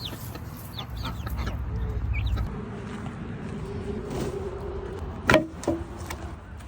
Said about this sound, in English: Also, update on the chickies.